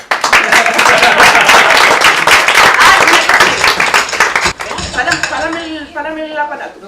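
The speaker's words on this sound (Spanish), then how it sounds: "Venga, un aplauso" An audience at a youth short-film screening in Asturias breaks into loud, dense clapping that runs for about four seconds. It then fades into scattered claps and murmured voices.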